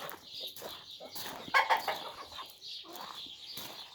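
An old hen, three or four years old, clucks in a run of short, close calls, with a louder burst of clucking in the middle before settling back to steady murmuring.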